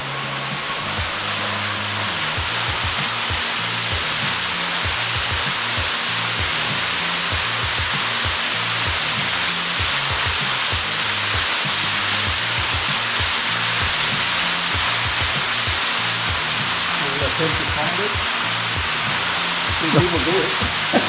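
Steady broadband rush of a waterfall in Lawson bushland, a constant even roar that holds throughout, with occasional faint voices and small sounds near the end.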